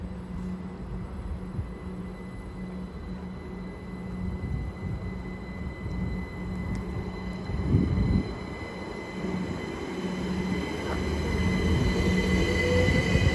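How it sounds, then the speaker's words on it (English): A passenger train pulls out of Didcot Parkway bound for London Paddington, a steady rolling rumble with faint wheel squeal that swells slightly as it departs, heard alone without talk. "as the 1307 service departs bound for London Paddington"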